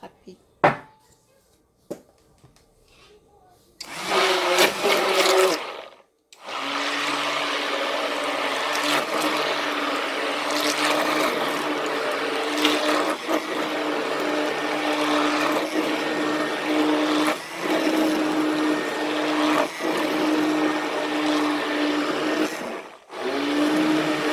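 A kitchen blender whirs loudly and continuously, mixing a garlic and aloe vera soap blend, after a few quiet preparatory clatters, with a brief pause in the motor partway through.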